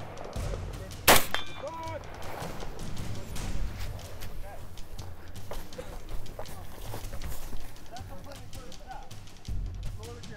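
Rifle fire on a precision rifle shooting course: one sharp, loud shot rings out early, followed by quieter handling noises and nearby voices talking.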